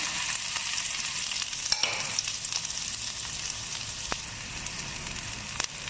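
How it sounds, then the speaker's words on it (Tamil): Mustard seeds and finely chopped big onions frying in sesame oil, a steady close sizzle filling the clip with a few sharp pops and spatters, no voices. "கடுகு பொரிஞ்சோன்னீங்க பெரிய வெங்காயம் பொடி பொடியாக அரிஞ்சு வச்சுக்கிறேன் போடணும்."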